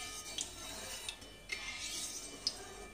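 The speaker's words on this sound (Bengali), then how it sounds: "তেল আর ঘিটাকে আমি গোটা কড়াইয়ের গায়ে এরকম করে বুলিয়ে দিচ্ছি।" Oil and ghee get spread around the sides of a kadai (wok) while making niramish chhanar dalna, giving faint, soft rubbing and scraping with a few light metallic clinks of a spoon against the pan.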